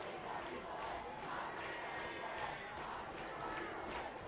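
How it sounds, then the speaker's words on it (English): Student section crowd at a high school football game between Altoona and Mifflin County, heard as a steady, distant roar of many voices chanting and cheering, fairly faint and continuous. "So the student sections are cheering"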